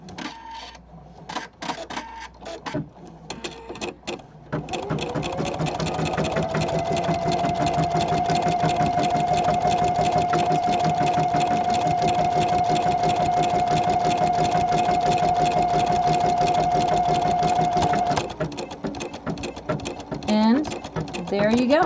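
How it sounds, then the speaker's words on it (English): A sewing machine stitches an embroidery design on toilet paper, a steady close mechanical whir with a high tone lasting about thirteen seconds, with brief handling clicks and a voice speaking before and after. "and then simply start sewing."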